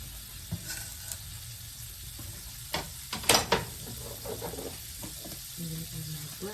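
Cubes of butter melting in a hot pan give off a steady low sizzle, with brief scrapes and clinks of stirring utensils and a faint voice in the background.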